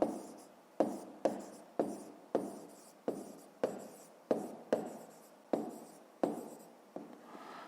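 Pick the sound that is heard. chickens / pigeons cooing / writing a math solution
writing a math solution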